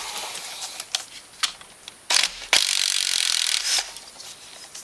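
Allen wrench turning a bolt on a Kawasaki Brute Force engine linkage, heard as a string of close, sharp metallic clicks and ratcheting rasps, with a few louder grinding turns near the middle.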